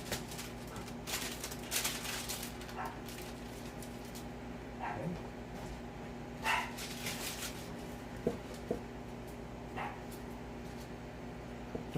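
A small dog barking indoors during a bubble hash wash, scattered sharp yips and barks at irregular intervals, fairly distant, over a steady machine hum.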